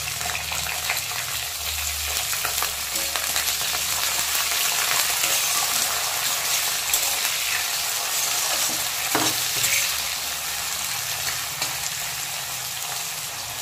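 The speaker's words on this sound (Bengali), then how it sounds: "আলুটা একটু 1 সেকেন্ডের মতো নেড়ে চেড়ে" Cut potato pieces are stirred and fried in oil in a pan. A steady, moderate sizzle carries occasional scraping stir strokes throughout, with no voices.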